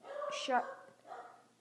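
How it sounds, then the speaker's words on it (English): A dog barks once or twice in the background of a home, heard faintly behind a person talking during an online game session. "if you hear some barking, that's just someone's dog."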